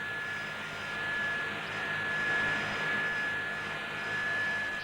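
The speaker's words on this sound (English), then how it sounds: "Here's one of the compressors." Large air compressor in an air separation plant compressing filtered air to six times atmospheric pressure, a loud steady roar with a sustained whining tone that swells gently and never stops.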